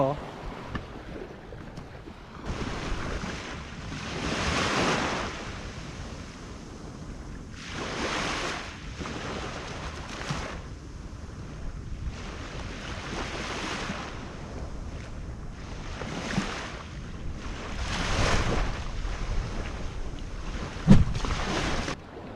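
Sea waves wash onto Pattaya beach in Thailand, the surf swelling and breaking in a steady rhythm of rolling surges, with gusty wind buffeting the microphone and voices faintly in the background.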